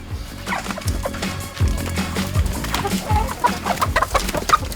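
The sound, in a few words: hens clucking on a farm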